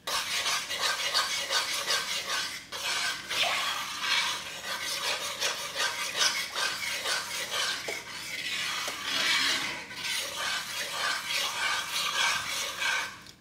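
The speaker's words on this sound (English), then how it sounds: "then I need to stir that in" Utensil stirring ingredients into a mail-order meal kit dish in a pan, a steady scraping, rubbing rhythm that continues close up and fairly loud throughout with no talking.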